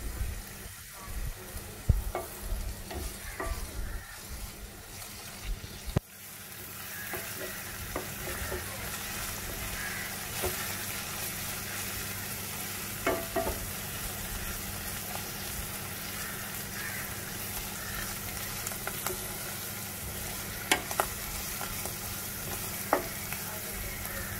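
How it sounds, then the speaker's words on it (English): Ginger and garlic sizzling in hot oil in a pot, given an occasional stir: a steady, close crackling fry with scattered pops and a few spoon scrapes. It is quieter and choppier at first, then settles into an even sizzle. "Give that a slight stir. So the ginger garlic doesn't remain raw inside basically."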